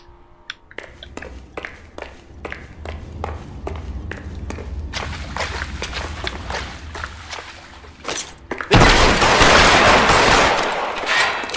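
Rapid gunshots fired at the player in the video game L.A. Noire, a quick series of sharp cracks at first, then denser firing and commotion, ending in a loud sustained burst of noise.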